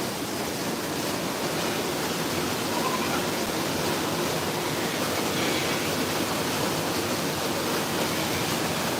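Indoor waterfall at the Wonders of Wildlife aquarium, a steady, loud, broadband rushing roar that holds even and unbroken throughout.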